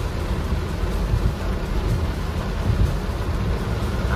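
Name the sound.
heavy rain during a trip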